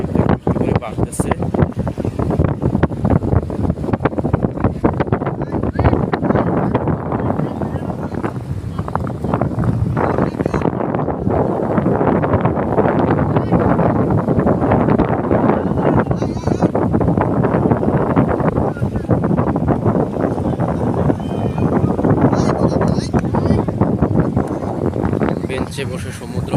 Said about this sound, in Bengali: সমুদ্রের ঢেউ আর দক্ষিণা বাতাস আপনাদের মন প্রাণ জুড়ে যাবে